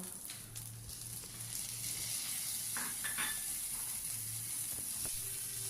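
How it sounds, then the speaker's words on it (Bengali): Tomato pieces are fried and stirred with a fine ginger and green chili paste for bhoger khichuri, making a quiet, constant sizzle with a few scrapes and utensil taps. "টমেটোটা দিয়ে খুব ভালোভাবে নেড়ে চেড়ে"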